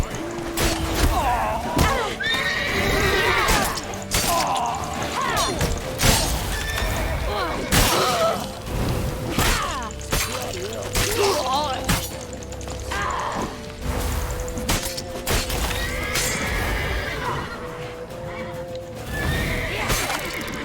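Horse neighing in the Witcher 3 video game during a chaotic chase through a town, with loud whinnies among thuds, crashes, clattering hooves and scattered shouts, all close and busy throughout.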